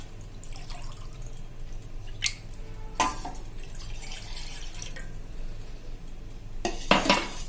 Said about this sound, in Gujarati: એમાં હું 1 કપ અત્યારે પાણી નાખું છું